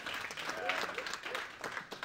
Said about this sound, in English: Another round of applause to people.